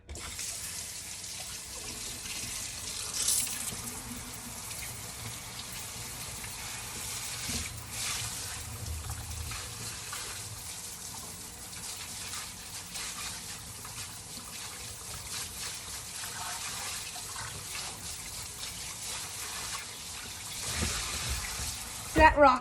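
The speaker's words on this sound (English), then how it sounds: "You just rinse it off. Same with the rocks," Aquarium rocks for a pea puffer tank are rinsed under a running faucet, a steady hiss of water with occasional splashes and clatter, mixed with intermittent speech.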